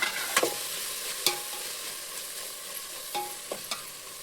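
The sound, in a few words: herbs frying in oil in a pan for chicken biryani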